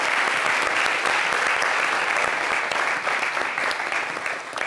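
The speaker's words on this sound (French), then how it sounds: "Merci de l'applaudir." A studio audience at a French evening talk show claps steadily and loudly, a dense unbroken wash of applause that tapers slightly near the end.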